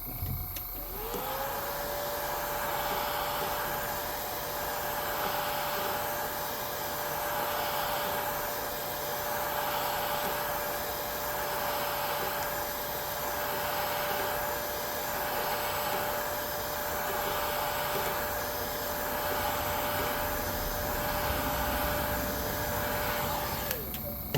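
A hair dryer on low heat blows over a freshly airbrushed 7-inch swimbait lure, a close, steady whirring hum that runs unbroken for more than twenty seconds with a faint wavering pulse. No one speaks over it.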